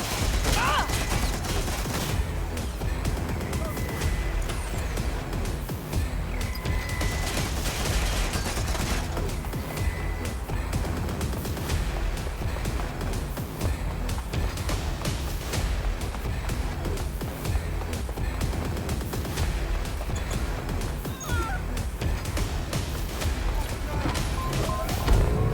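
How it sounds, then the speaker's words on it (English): Rapid bursts of gunfire in Watch Dogs Legion crackle steadily throughout, dense volleys layered over game music and effects, with in-game voices speaking over the shooting. "Gunfire! Stop right there!"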